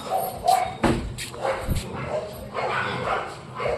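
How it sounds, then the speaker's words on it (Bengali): A few sharp dog barks ring out at a moderate distance, irregular and spaced apart, over a quiet background. "রক্সি চেঁচাচ্ছে এই সামনে মানে কুকুর টুকুর এসছে"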